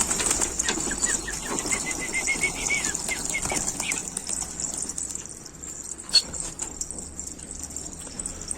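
Newly unbound pigeon taking flight, wings clumsy, rapid fluttering flaps in bursts close by over the first few seconds, then quieter rustling with a sharp knock midway.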